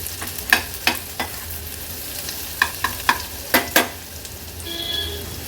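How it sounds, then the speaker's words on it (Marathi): Chopped onion frying in oil over a low-to-medium flame, heard as a soft steady sizzle with a series of sharp utensil scrapes and knocks in irregular bursts, close by and without talk. "हा बारीक चिरलेला कांदा ऍड करूया। कांदा पण व्यवस्थित तेलावर आपण शिजवून घेणार आहोत"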